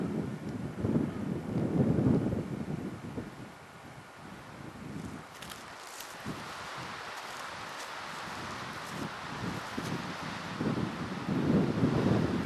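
Wind gusts buffet the microphone at a high mountain campsite around 10,200 feet elevation, with loud rumbling bursts at the start and end and a steadier whooshing rush in between.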